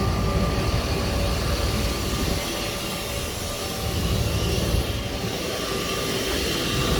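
Pump on a 5,000 gallon jet fuel truck runs steadily and loudly throughout, a dense continuous mechanical drone with no pauses and no talk.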